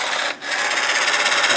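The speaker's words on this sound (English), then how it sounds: "The vacuum bin works." An iRobot Roomba 500 or 600 series vacuum runs its vacuum bin motor during a diagnostic test, a steady close whirring hum that dips briefly near the start and then holds constant.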